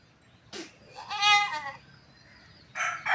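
A young lamb bleats loudly and close by, a short cry followed by a longer quavering bleat and the start of another, with quiet gaps between the calls.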